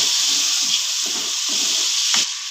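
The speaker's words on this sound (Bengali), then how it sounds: "অল্প একটু পানি দিচ্ছি মশলাটা কষানোর জন্য।" A little water poured into ground turmeric, coriander and cumin frying in a pan sets off a loud, steady hissing sizzle close by, which holds evenly and then drops off abruptly near the end.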